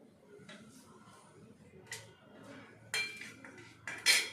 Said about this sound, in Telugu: ఈ విధంగా మనం అన్ని కాకరకాయలు కోసుకుందామండి.